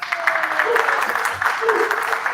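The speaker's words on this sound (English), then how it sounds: "Let's give him a round of applause." Audience at a developer talk on Terraform breaks into steady applause for the host, a dense patter of clapping lasting a couple of seconds.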